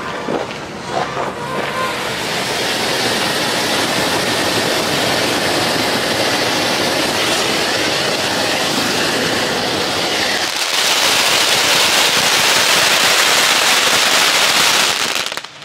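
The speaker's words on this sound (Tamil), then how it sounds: "வெடி பேர் வந்து கோஃபிஸ் அப்படிங்கிற ஒரு ஃபவுண்டன்" A dense, steady crackling hiss of a firework fountain, loud and continuous, swelling brighter and fuller toward the end.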